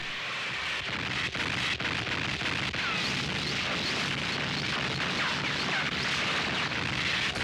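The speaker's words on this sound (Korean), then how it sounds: "미군의 파상적인 포격" Relentless wave after wave of US artillery bombardment in the Korean War, heard as a dense continuous roar of shelling with rumbling bursts blending into a constant wash of noise, loud and unbroken.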